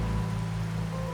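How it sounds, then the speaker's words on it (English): Steady rain falls in Wuthering Waves, a soft, even patter of drops on surfaces heard faintly for about a second over a low background hum. "Rain's back."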